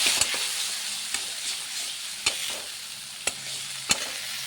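Spices for a potato, pea and paneer curry fry in a pan with a continuous close sizzle, broken by a few sharp taps of a spoon against the pan while stirring.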